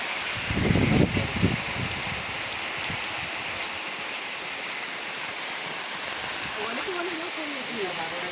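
Steady rain falls over a garden orchard, a constant hiss of drops throughout, with a short burst of talking near the start and a faint voice again toward the end.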